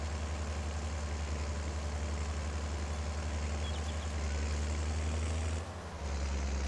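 Tractor engine droning in Farming Simulator 22 while working a gently sloping field in Italy, a steady low hum that holds constant with a brief dip near the end.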